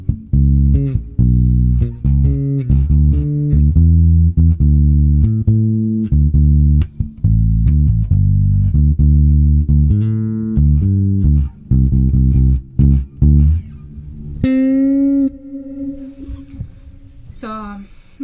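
Bass guitar plays a phrase, loud, punchy, rhythmic notes with slapped attacks, then a few sustained sliding tones as the phrase ends.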